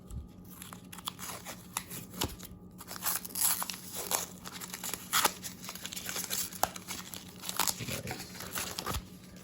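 Wrapped packages of Pokemon trading cards are unwrapped up close, with quiet crinkling plastic and tearing tape, in irregular bursts and sharp crackles, with no talking.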